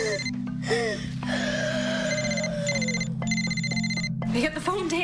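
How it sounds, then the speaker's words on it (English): A telephone rings repeatedly in a tense home scene, a bright electronic trill in regular bursts, with voices speaking over and between the rings. "Pick up the phone, Taylor."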